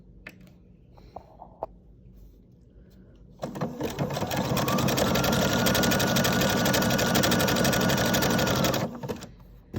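A sewing machine zigzag-stitches a hem on fine knit fabric, a close, steady rapid whirring clatter running for about five seconds after a few faint taps and soft handling noises, then stopping abruptly.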